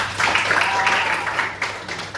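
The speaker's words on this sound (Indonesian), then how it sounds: "Tepuk tangan tuh yang nggak jawab." Classroom students clapping together in a short burst, a fairly close, dense patter of hands with some voices mixed in.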